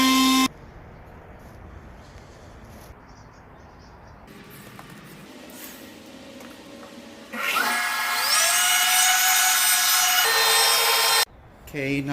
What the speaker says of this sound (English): I'm gonna chamfer all the edges. These edges here are super sharp. Got my 1/8 round over bit in here.